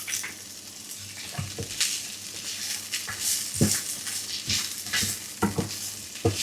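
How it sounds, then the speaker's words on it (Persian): Raisins and dried apricot strips sautéing in a pan, heard as a steady sizzle broken by repeated scraping stirs at an uneven pace, close and moderately loud. "همراه این برگه های زردالو انقدر که رنگ کشمش شفاف و روشن بشه تفت میدم"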